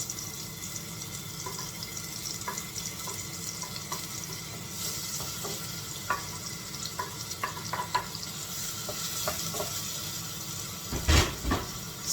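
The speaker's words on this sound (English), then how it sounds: "I will cook the mushroom and continue to stir for like 5 to 6 minutes" Mushrooms fry in a pan with a low, steady sizzle while a utensil stirs them, giving intermittent scraping taps. Water runs briefly near the end, and no one speaks.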